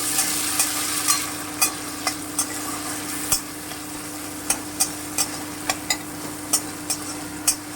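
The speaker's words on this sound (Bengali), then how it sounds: "এবারে আমি এই তেলেই টমেটোটা দিয়ে দিচ্ছি ভালো করে ফ্রাই করে নেব" Tomato fries in oil with a steady sizzle, punctuated by regular sharp clicks of a utensil stirring the pan.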